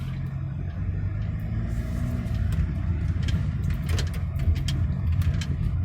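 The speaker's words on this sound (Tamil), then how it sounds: "இப்போ நான் வண்டியை நான் வந்து மூவ் பண்ணுறேன்." An automatic Toyota Innova Crysta or Fortuner moves off, giving a steady low engine rumble and road noise from inside the cabin, with light rattles and clicks over the drone and no talking.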